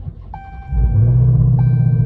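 A 2020 Dodge Hellcat Widebody engine starts close by, cranking briefly and then settling into a loud, deep, steady rumble at idle.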